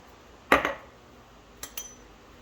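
A utensil knocks against a jar while thick bread starter is stirred down, one sharp clink followed by two lighter taps, close and brief.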